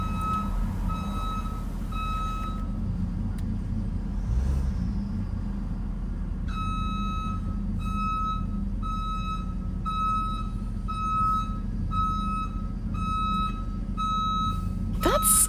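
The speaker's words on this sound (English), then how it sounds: "Tow truck. That definitely could be" A tow truck's reversing alarm beeps in a steady, evenly spaced series from about midway on, loud and clear over a constant low traffic rumble, with a brief earlier burst of beeps.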